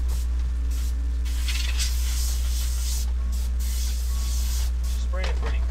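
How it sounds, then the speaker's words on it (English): Airbrush spraying paint, a continuous close hiss of air and atomized paint running steadily through the whole stretch with a low electrical hum beneath it and no pauses. "Spraying pretty good."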